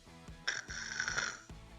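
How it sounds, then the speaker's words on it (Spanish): A single snore, soft and faint, with a brief nasal, rasping tone in the middle. Low thumping rhythmic sounds run beneath it in a quiet bedtime story setting. "ronquido"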